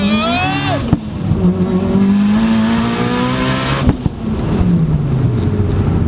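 Mitsubishi Lancer Evolution running on E85 accelerating hard in second gear on an icy road, the engine note climbing steeply with a sharp gear change, loud and close inside the car, no talking.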